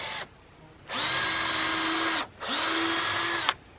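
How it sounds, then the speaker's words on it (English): A power drill with a 1/8 inch bit bores into a wooden board in two sustained whirring runs, each starting with a rising whine and ending abruptly, close and clear with no talk. "and drill a hole"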